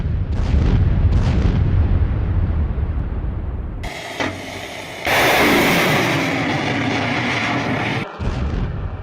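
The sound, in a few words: explosions in a row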